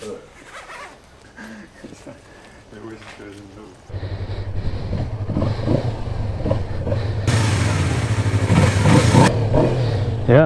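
A Yamaha R3 motorcycle in standard trim on a track test: rustling and handling noises, then the engine starts up close and loud, idles roughly and climbs into a sustained rev.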